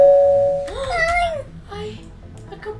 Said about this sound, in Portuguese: Tocando campainha.